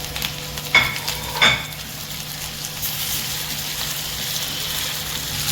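Garlic, crushed chilies, green chili and salt sautéing for spiced taro root, a soft steady sizzle broken by two sharp stirring scrapes near the start, then a low continuous frying hiss.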